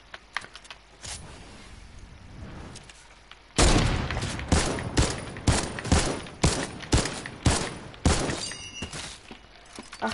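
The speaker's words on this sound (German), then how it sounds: "Acht Schüsse, nicht einer connected." Gunfire in a video game, a run of about eight sharp, loud, evenly spaced shots after quieter keyboard clicking, heard close and alone without talk.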